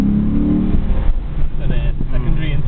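A 2.5-litre car engine in sport mode as its secondary intake opens, a loud rising engine note under speech from people in the car.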